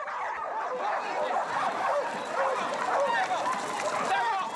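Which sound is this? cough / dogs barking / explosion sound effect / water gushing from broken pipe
dogs barking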